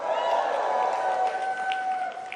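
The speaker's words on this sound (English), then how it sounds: "I'm not used to hearing applause when I walk out onto the stage at the office these days" Audience applauding as a guest walks onto a stage at a live talk show taping, a steady dense wash of clapping with some cheering throughout, fading slightly at the end.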